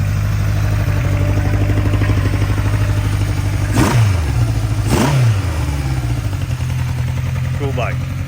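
A 1970s Honda CB750 Four K6 motorcycle engine running steadily, with a couple of quick throttle blips rising and falling, close and fairly loud.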